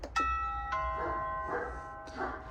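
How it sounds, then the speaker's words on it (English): A Logitech Circle View video doorbell rung at night gives three clear chime tones, each ringing out and decaying, with faint background noise between them. "I'm gonna walk up to it and then ring it."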